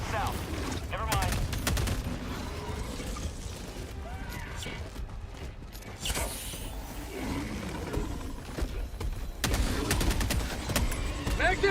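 Stalwart machine gun fire in Helldivers 2 at Helldive difficulty, rapid bursts crackling in several loud stretches amid roaring creature noise and battle din, the loudest bursts near the start and the end.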